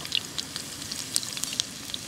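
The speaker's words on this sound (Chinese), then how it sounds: "它这个其实已经不太算煎，有点像炸了" Meat frying in its own fat at a motorcycle campsite, a close steady sizzle with scattered sharp pops and spits.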